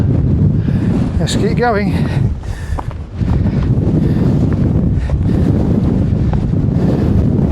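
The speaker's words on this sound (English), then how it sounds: "so breezy. So breezy. I can hardly hold the camera straight." Strong gusting wind roars across a rocky hilltop during a storm, buffeting the microphone continuously and loudly, with a person talking briefly over it.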